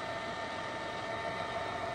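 Csepel RF 50/1250 radial drilling machine with its spindle turning at 250 RPM, giving a steady, even mechanical hum with a bright whine, constant and close throughout with no talking.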